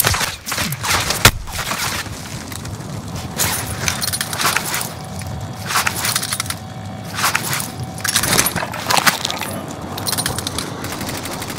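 Gunfire in Call of Duty Warzone trios, a run of sharp cracking shots and bursts scattered over a busy game soundscape, fairly loud with no talk.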